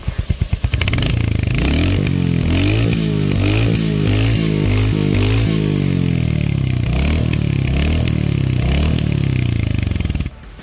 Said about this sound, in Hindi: चलो यार मैं अब आपको इसका एग्जॉस्ट नोट सुनाता हूँ